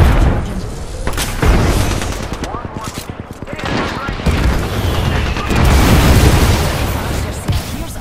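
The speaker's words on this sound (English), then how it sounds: "Grenade out. Frag out." Frag grenade blast amid heavy gunfire in an Apex Legends-style shooter, loud dense bursts with booms near 1.5 s and 5.5 s, while a game voice announces items.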